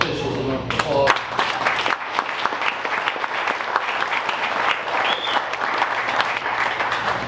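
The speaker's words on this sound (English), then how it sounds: "I think we should give our law officials an applause." Audience applause for law officials at a 2016 farmers breakfast, steady dense clapping from a crowd filling the whole stretch, loud and close, with a brief voice at the start.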